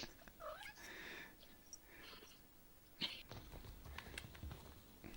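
Quiet cat sounds play back from a cat video, with faint meow-like calls and soft scuffling at a distance, low in level and without anyone talking.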